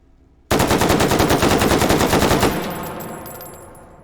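Automatic fire from an AR10 7.62 rifle in the VR shooting game Hot Dogs, Horseshoes and Hand Grenades: one loud, rapid, steady burst of about two seconds, each shot distinct, then a ringing tail that fades out.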